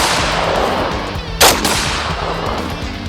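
A single loud, sharp shotgun blast fires a number 8 target load at targets outdoors, standing alone against a steady background of wind and hiss.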